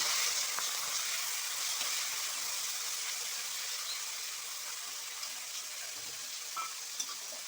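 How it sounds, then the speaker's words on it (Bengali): Prawns sizzle and spit steadily in hot oil in a pan for a Bengali bottle-gourd and prawn dish, making a dense, even frying hiss with occasional pops and no talk. "এইবার দেখো আমি চিংড়ি মাছগুলো কিন্তু দিয়ে দিচ্ছি।"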